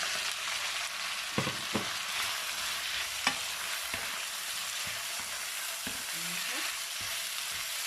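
Pork and vegetables sizzle hard in a pan for a ginger stir-fry, with a continuous bright hiss and scattered clicks and scrapes of a spatula, close by.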